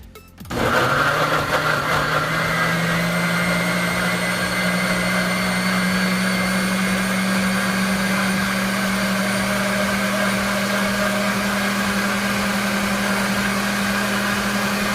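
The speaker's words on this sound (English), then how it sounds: "Then I'm gonna fire up the blender." A blender whirs loudly and steadily after a sudden start, blending Jamaican jerk marinade, its motor drone holding constant throughout with no voices.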